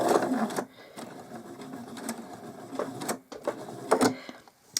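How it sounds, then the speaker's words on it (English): Sewing machine stitching patchwork fabric, close and steady with a rhythmic mechanical chatter that pauses briefly and resumes in short bursts. "So I'm going to stick that underneath the foot and stitch to the end of it."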